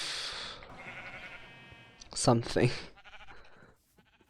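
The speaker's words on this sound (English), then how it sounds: "Hello, sheep." Sheep in the Minecraft ATM3 Remix modpack give two close, fairly loud bleats in quick succession, following a stretch of a person talking.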